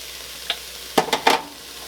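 Vegetables for jambalaya stirred in a pan with Cajun seasoning, giving one light scrape followed by three quick clattering stirs over a faint sizzle.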